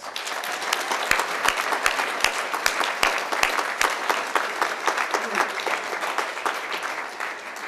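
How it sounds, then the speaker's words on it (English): Sustained applause from wedding guests after a best man's speech fills the room, loud and dense, with a few sharp nearby claps standing out above the crowd for several seconds. "I'd just like a big round of applause for the two of them."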